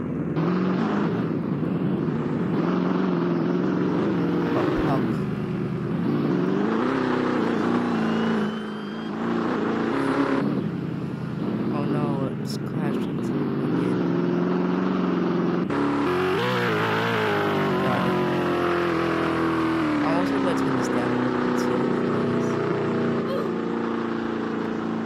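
Car engine revving in a UK roleplay video game, repeated rising and falling revs with gear-like shifts, sustained and loud, with a voice occasionally speaking over it.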